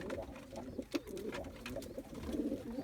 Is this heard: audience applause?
no